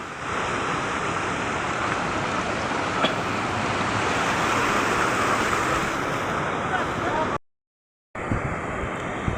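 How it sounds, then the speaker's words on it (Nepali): A river flowing at a stream-side picnic spot makes a steady, loud broadband rush for about seven seconds. It cuts out briefly, then resumes. "खोला आइपुग्यो फाइनली है।"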